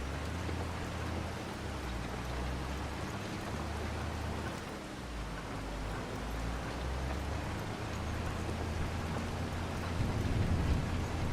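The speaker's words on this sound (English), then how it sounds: "it's so good to hear the rain and the thunderstorm in game" Steady rain and a thunderstorm from the Farming Simulator 25 video game hiss as a constant wash. Low thunder rumbles underneath and swells briefly near the end.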